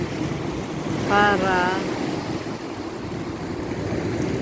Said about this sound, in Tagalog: Medyo malakas ang alon doon.